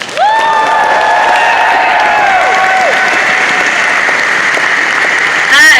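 Loud applause and cheering from a convention crowd at BronyCon as a speaker is introduced, with high whoops and shouts over steady clapping that carries on throughout.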